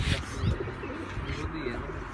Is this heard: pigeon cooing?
yes